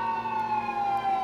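A wailing emergency siren holds a steady, high tone, sounding fairly close, with a low engine rumble beneath and no voices.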